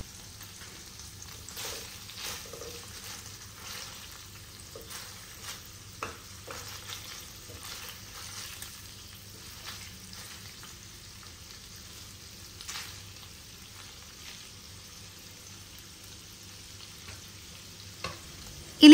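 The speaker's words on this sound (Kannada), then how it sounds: "ಈ ಪನ್ನೀರನ್ನು ಸ್ವಲ್ಪ ಡಾರ್ಕ್ ಬ್ರೌನ್ ಅಲ್ಲ ಸಾರಿ, ಗೋಲ್ಡನ್ ಸ್ವಲ್ಪ ಆಗುವ ತನಕ ಫ್ರೈ ಮಾಡ್ಕೊಳ್ತೀನಿ" Paneer cubes frying in a pan until golden, a faint continuous sizzle with scattered soft pops and light stirring scrapes, close and steady throughout.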